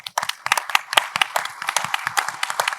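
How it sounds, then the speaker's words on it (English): Audience applause at a Sea-Air-Space 2024 logistics conference, a burst of many hands clapping fairly close and loud, dense and uneven, rising quickly and holding for a few seconds with no talk over it. "So please, a round of applause."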